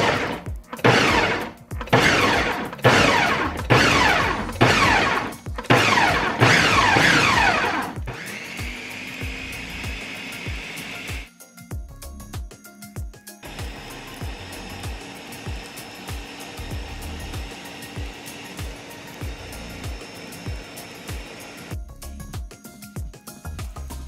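A kitchen blender churns spinach and cucumber into green juice, starting with loud, choppy bursts of blade strikes and then settling into a steady motor whir that drops out briefly twice. No one speaks.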